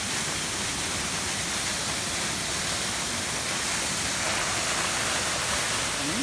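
Steady broadband rush of a waterfall with splashing droplets on a mountain path near a village, continuous and fairly close, with no voices over it.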